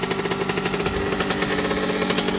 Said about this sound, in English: The engine sounds pretty good actually.